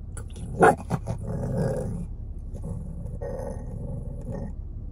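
Puppies growl and scuffle nearby while playing, with a short sharp yap early on, then low rumbling growls continuing steadily.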